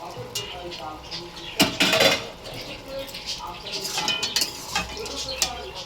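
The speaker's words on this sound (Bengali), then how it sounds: "এবার ভেজে রাখা বড়িগুলো দিয়ে দিলাম" Fried lentil dumplings (bori) go into a mixed vegetable curry in a pan. A metal spoon clanks and scrapes repeatedly, with a louder burst of clattering near the middle.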